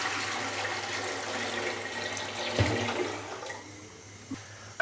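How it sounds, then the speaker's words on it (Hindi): Steady rush of water being poured into a cooking pot for chicken pulao, continuous and fairly close with a few small clinks near the end. "इसके अंदर अभी मैं 7 गिलास पानी डालूंगा"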